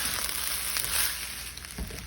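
Chicken fried rice with mixed vegetables sizzles steadily in a hot pan while being stirred, with a soft scrape of the utensil near the end; no one speaks.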